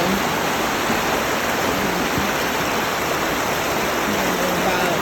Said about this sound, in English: There's the creek. It's kind of a river today.